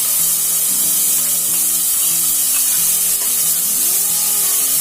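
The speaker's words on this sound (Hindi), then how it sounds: "ऑयल के गर्म होते ही हम इसमें डालेंगे कटा हुआ प्याज, लहसुन और हरी मिर्च का पेस्ट।" Chopped onion, garlic and green chilli paste fries in hot oil in a kadhai, a steady loud sizzle with faint stirring scrapes and no talk.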